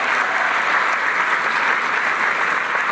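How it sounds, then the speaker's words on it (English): Steady applause from a sizable crowd at a public event during a Vice President's visit in Arizona, a dense, even wash of clapping that holds for the full three seconds without voices. "Let's give them a round of applause as well."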